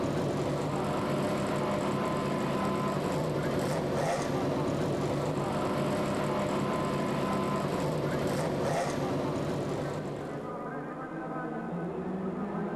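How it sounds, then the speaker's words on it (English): Some 30 sports cars on the warm-up lap at Monza, zigzagging to heat their tyres, their engines forming a continuous loud roar with passing swells that fades toward the end, with a commentator's voice partly over it. "Some 30 cars zigzag to get heat into their tyres on the warming up lap"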